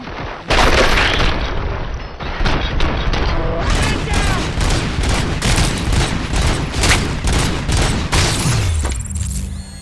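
Sustained gunfire in Robocop: Rogue City, a loud near barrage of rapid repeated shots and heavy booms, rhythmic bursts running for several seconds before tapering off into a low mechanical tail.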